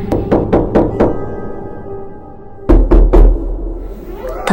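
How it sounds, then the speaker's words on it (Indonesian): Knuckles rap on a house door, first in a fast run of five knocks, then after a pause three or four more heavy knocks, close and loud with a low thud to each. "Aku sangat bersemangat mengetuk pintu rumahnya."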